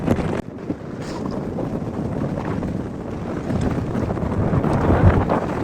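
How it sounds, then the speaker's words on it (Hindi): Strong cold wind gusting on the summit of Ben Lomond mountain, a loud continuous roar buffeting the microphone throughout, swelling slightly toward the end, with no talk. "ज़बरदस्त हवा चल रही है,"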